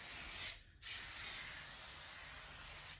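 Two long bursts of fine soapy-water spray hiss from a pump bottle as tire-mounting lubricant on offroad tires, close up, separated by a brief pause; the second burst trails off gradually.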